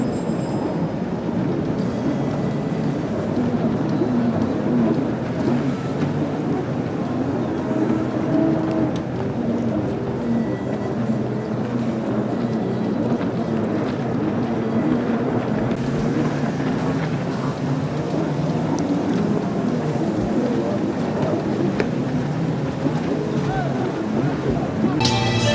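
Jet skis race on the water at a regional competition in Velas on São Jorge island in 2013, their engines a steady, continuous roar that holds at an even level throughout with no break.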